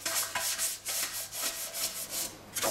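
Drain cleaner being rubbed up the walls of a stainless steel sink, a steady, close scratchy rubbing that comes in repeated strokes with no one talking.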